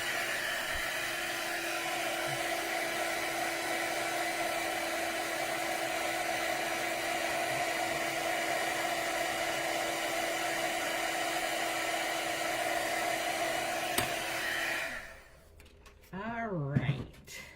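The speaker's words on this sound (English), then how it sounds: "pull out the heat gun" A heat gun blows a steady, loud stream of hot air over a card project for about fifteen seconds, then cuts off, leaving brief quiet handling sounds at the end.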